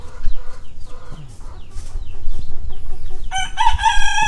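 Roosters crowing at a farm around six in the morning, several loud drawn-out calls overlapping with clucking nearby, the last crow strong and close.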